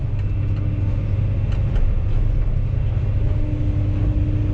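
A SANY SY215C excavator engine drones steadily at a morning earthworks site, a loud, continuous low diesel rumble with no breaks or speech.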